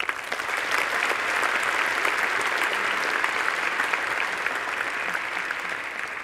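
Steady, dense applause from a large audience for engineering graduates at a university graduation ceremony, sustained throughout with no break.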